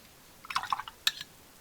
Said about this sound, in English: let's put a bit more water in this because this is a very much a granulating black